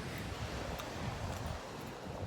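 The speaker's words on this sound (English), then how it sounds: "It is a little windy" Wind gusts across a microphone at a beach, a steady low rumbling buffet with faint surf-like hiss, fairly quiet and continuous.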